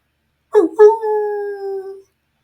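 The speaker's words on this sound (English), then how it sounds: "and that's the reason the coyotes howl." A cartoon coyote lets out a single howl, a short yelp that rises into a sustained, steady tone and fades out after about a second and a half, heard alone against silence.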